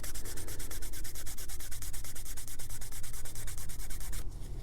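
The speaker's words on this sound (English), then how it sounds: "And now we can start actually slicking that edge and burnishing that." A leather edge being burnished by hand friction: a fast, rhythmic back-and-forth rubbing at close range, loud and steady for several seconds before easing off at the end, no talking.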